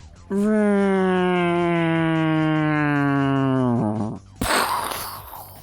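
A sustained tonal whine that slowly slides downward in pitch, then warbles and cuts off, followed by a burst of noisy rumble like an impact.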